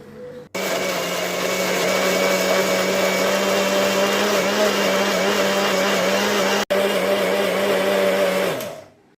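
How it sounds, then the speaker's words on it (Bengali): An electric mixer grinder whirs loud and steady while blending banana and sugar into paste, switching on after a brief pause, cutting out for an instant midway, then winding down at the end. "ফার্স্টে আমি কলাটাকে মিক্সির মধ্যে নিয়ে নিলাম, তার সাথে চিনি দিয়ে দিলাম। চিনি আর কলাটাকে ভালো করে পেস্ট করে নেব।"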